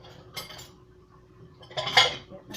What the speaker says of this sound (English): Get my spoon out here.